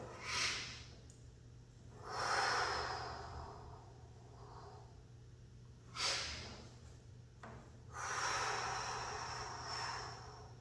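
Slow, deep breaths during a wall angel stretch, with broad airy inhales and exhales rising and fading in a steady rhythm, close and fairly quiet, with no talking.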